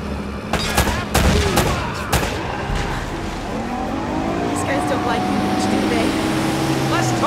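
Gunfire in Uncharted: Drake's Fortune, a few sharp loud shots early on, then a steady hum of engine and ambient game noise with voices talking.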